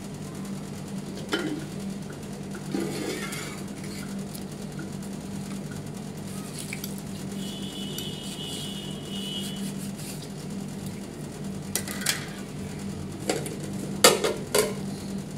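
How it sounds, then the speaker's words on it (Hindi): Cups and pots being washed by hand in a village home in Pakistan, with scattered clinks and knocks of dishware over a steady low hum, a few louder clatters near the end. "ये सुबह के प्याले और दोपहर के बर्तन हैं।"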